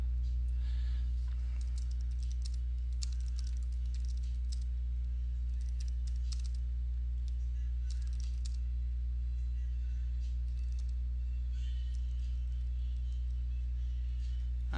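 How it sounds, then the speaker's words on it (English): Typing on a computer keyboard while writing a simple HTML page, a run of light, irregular key clicks in quick clusters over a constant low hum, close by and without speech. "I'm just going to type this in."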